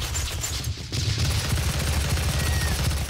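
Rocket launcher fire and explosions from the game DOOM rumble continuously in a dense, loud barrage of booms and blasts.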